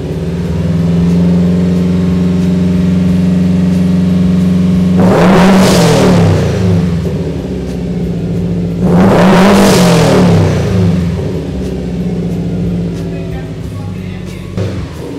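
A Subaru WRX/STI fitted with a muffler delete idles loudly up close, then is revved twice in sharp rising-and-falling bursts before settling back to a steady, throaty idle.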